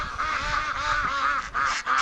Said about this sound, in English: but the Muscovy females right now, actually, I'll show you. They're all outside talking to each other.